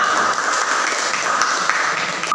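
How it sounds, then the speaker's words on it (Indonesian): A group of students in a school group counseling session clapping together, a steady, even wash of applause held for a couple of seconds with no talk over it. "Tepuk tangan untuk kita semua"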